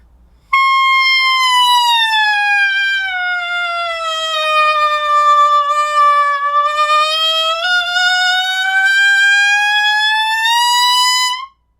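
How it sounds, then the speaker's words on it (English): A single reed-mouthpiece tone glides slowly from high down to low and back up again, loud and bright, sustained for about eleven seconds alone. "sirens are a great way to begin to just experience the flexibility of all the different frequencies"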